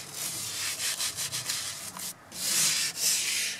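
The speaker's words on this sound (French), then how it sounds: "vous allez venir brosser le volant en appuyant bien pour bien le nettoyer" A brush scrubs a car steering wheel with firm pressure, giving close, rapid rasping strokes in a steady back-and-forth rhythm with no talking.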